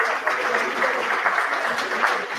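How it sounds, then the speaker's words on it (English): An audience at a university awards ceremony applauds the Vice Chancellor, a steady, moderately distant wash of clapping that holds for a couple of seconds. "please stand up for a round of applause for you."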